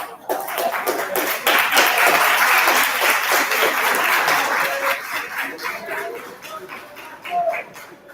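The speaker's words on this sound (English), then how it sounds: "please stand and turn around and face your families and give them a round of applause" Sustained applause from a large crowd at a high school graduation ceremony, steady dense clapping that swells and then slowly thins out near the end.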